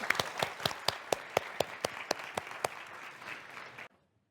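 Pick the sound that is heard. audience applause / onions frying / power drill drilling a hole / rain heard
audience applause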